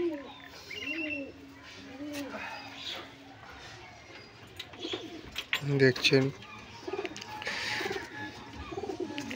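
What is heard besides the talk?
pigeons cooing at a friend's house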